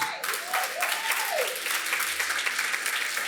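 A church congregation applauds in a steady wash of clapping that fills the whole stretch, fairly loud and close, with a voice briefly rising over it near the start.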